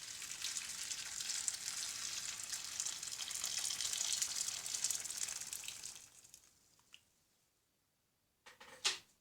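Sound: boiling water poured into a pot for sterilizing jars

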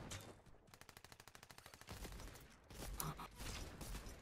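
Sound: SMG gunfire in Fortnite video game

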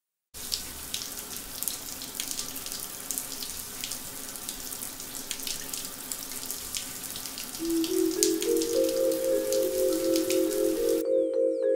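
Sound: shower water running, from South Park cartoon

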